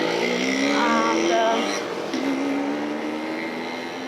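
Motorbikes pass along a city street in Singapore's Chinatown. Their engines drone loud and near with a steady rising and falling whine, then ease slightly as they move off, with no talking.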